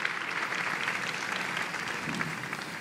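Audience at a design conference in Western Pomerania applauding, a steady, dense wash of clapping from a large crowd that holds an even level throughout without voices breaking through.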